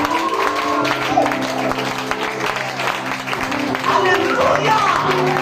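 A church congregation applauds and cheers during a Sunday service, with sustained clapping and crowd noise under voices and musical tones.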